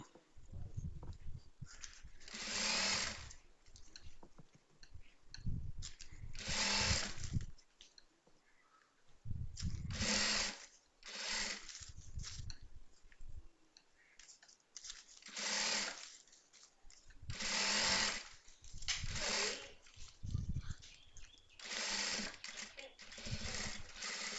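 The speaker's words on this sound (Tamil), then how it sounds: "இந்த மாதிரி தைக்கிறப்ப நமக்கு நீட்டாக தையல் விழுந்துடும்" A sewing machine stitches a sports track pant alteration in repeated bursts of whirring, each lasting a second or two, separated by short pauses and quieter handling sounds.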